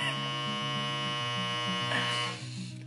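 A washing machine's end-of-cycle alert sounds as a steady electronic buzzing tone with a stepped, repeating pitch pattern, loud and close, ending abruptly after a few seconds.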